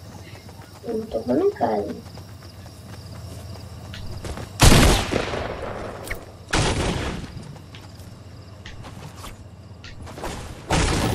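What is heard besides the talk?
gunfire in the video game Fortnite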